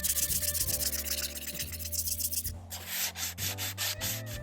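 Rhythmic back-and-forth scratching of sandpaper worked by hand over a plastic chair, close and continuous with uneven strokes.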